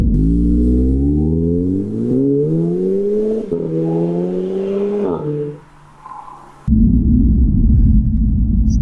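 A 2016 Audi S3 accelerating hard, its engine rising in pitch through several gears with short dips at each shift, then easing off before a loud burst of rushing road and wind noise.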